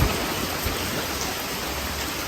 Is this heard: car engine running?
no